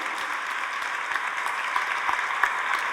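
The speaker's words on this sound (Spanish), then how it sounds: "Fuertes aplausos al Rey de Reyes y Señor de Señores" A church congregation claps vigorously during a Spanish-language service, producing a thick, sustained patter of many hands at fairly close range with no break.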